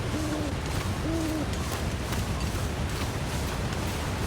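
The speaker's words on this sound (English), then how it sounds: "Or it might have been the owl." An owl in The Long Dark gives two short hoots early on, moderately distant, over a constant loud rush of wind.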